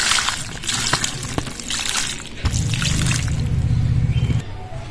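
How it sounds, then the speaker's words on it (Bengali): Raw green mangoes are washed under running water, a close trickling, splashing stream that turns to a heavier, fuller gush of water partway through, with no one talking. "এবার জল দিয়ে ধুয়ে নেব।"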